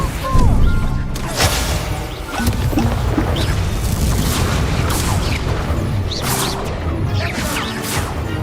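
A fire spell cast in the Hogwarts Legacy video game: a loud burst with booming whooshes, set among dense, continuous combat effects and crashing impacts throughout.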